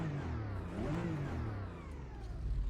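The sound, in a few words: GT4 race car engine revving in Automobilista 2 video game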